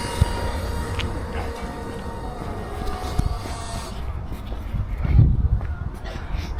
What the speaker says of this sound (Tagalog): Ayan na yung tren.